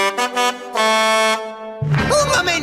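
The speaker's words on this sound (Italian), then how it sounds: "Conosco quel clacson!" A cartoon vehicle horn honks in a few short bright blasts followed by a longer sustained toot, then lively sounds and a voice take over.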